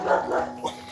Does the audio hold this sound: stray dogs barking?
yes